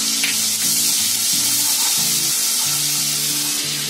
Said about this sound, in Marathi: आता याच्यामध्ये एक चमचे आलं लसूण ची पेस्ट टाकते.